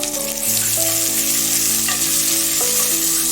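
Two finely chopped onions fry in a cup of hot oil, giving a loud, steady, continuous sizzle close up with a faint tonal hum underneath and no voices.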